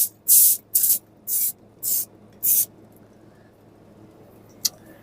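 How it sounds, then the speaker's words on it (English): Five short, sharp hissing bursts of Pam cooking spray onto a pan, in a quick, even rhythm, close by, followed by quiet and a faint click. "Spray our pan with Pam and preheat our oven"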